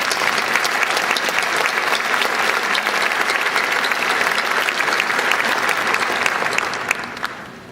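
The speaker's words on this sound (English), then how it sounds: "Let's give her a round of applause." An audience at a university commencement ceremony applauds in a dense, sustained wash of clapping that stays loud and steady for several seconds before tapering off slightly at the end.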